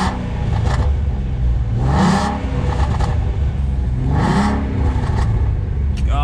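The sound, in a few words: 2017 Ford Mustang V6 Fastback engine revving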